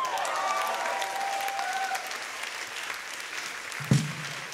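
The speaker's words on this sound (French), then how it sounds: "On applaudit Olivier!" Applause from a concert audience rolls on softly and a bit distant, with a faint tonal hum under the first two seconds and a single sharp knock near the end.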